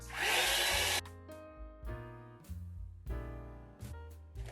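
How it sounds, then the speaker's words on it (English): A hair dryer drying Mod Podge on a craft project roars loudly for about a second, then cuts off as tonal music continues alone. "Now I want this to dry quickly, so I'm gonna use my dryer for that"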